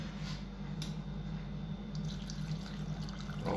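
Water pours steadily over marinated fish mixed with a glass of vinegar in a kitchen, a continuous soft gurgling stream with no breaks, fairly quiet and close.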